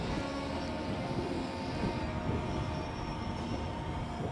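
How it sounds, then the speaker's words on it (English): Steady broadband wind rush buffets a drone's microphone outdoors, a dense continuous roar with low rumble that holds at an even level throughout, with no voices. "Oh, we might be picking up some wind."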